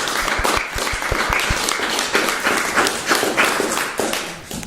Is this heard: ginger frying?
no